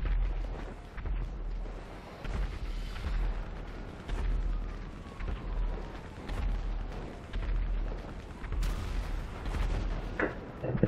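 Continuous rumbling booms and bursts of explosions, rockets and gunfire in GTA V Online, dense and chaotic, rolling on throughout at moderate volume.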